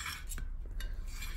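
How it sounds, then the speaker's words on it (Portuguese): Knife cutting ricotta into small pieces in a São Paulo kitchen, soft scraping and light clicks of the blade against a board or dish, close and quiet. "Não precisa nem amassar, é só cortar em pedacinhos."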